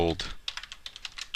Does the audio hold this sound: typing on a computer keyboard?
yes